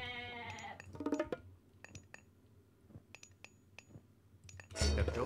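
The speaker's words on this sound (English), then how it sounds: "Those three goats." Goats bleat in the Age of Mythology strategy game, a short bleat at the start followed by scattered clinks and clicks of game effects and a louder burst at the end, all at moderate volume.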